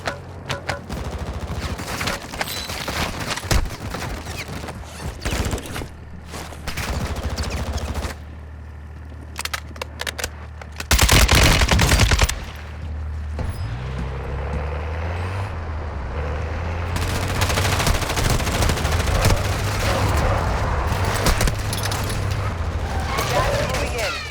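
Gunfire in Warzone 2.0: bursts of rapid automatic fire and scattered shots, with a loud sustained blast partway through and vehicle-like engine noise later. Someone speaks over parts of it.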